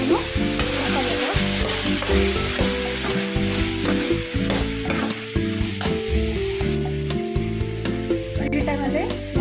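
Tomatoes fry and are stirred in a pan for a bitter gourd curry, a steady close sizzle running throughout with a dense, unbroken texture and frequent spoon scrapes and clinks over it.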